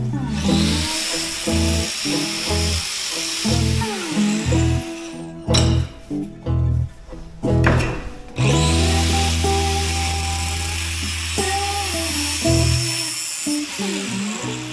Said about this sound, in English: I'm gonna go now and just cut the outer splines.